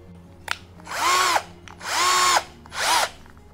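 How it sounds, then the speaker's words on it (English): A cordless power screwdriver driving small screws into brackets while assembling an Ikea Trofast wall storage unit, three close whirring bursts of about half a second to a second each, pitch dipping as the screw seats. "I'm also going to use my screwdriver, which will make the process a bit easy"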